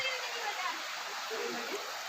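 Steady rushing flow of the Gautami Ganga, known locally as the Gola river, at an ashram in Heedakhan, a dense broadband wash of water running continuously and fairly close, with no break in its level.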